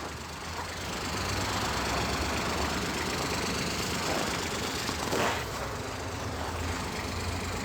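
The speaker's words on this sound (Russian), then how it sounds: "японский мини-трактор Kubota GT3" A Kubota GT3 Japanese mini tractor with cab and rotary tiller idles steadily, a continuous rough knocking diesel rumble close by, with no talking.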